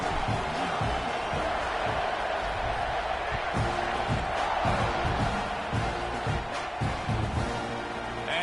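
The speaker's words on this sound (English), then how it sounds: "They're set to kick it off, and this crowd now ready to get behind them." A stadium crowd roars continuously at kickoff in a football video game, a dense loud wall of cheering with thumps and shouts mixed in throughout.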